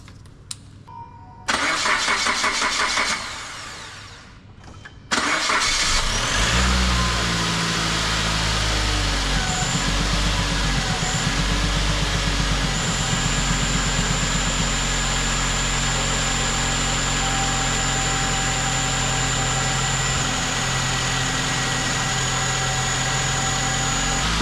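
A Suzuki Grand Vitara engine cranks and fires after intake manifold and EGR gasket work, then settles into a loud, steady idle with a constant hum and faint whining tones, heard alone for about twenty seconds.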